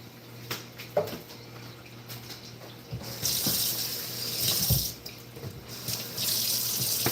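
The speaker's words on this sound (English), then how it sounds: "Well, I'm gonna have to wash this." Running tap water gushes into a sink while dishes are washed, with clinks and knocks of crockery and a steady hiss of the stream growing louder midway; no one speaks.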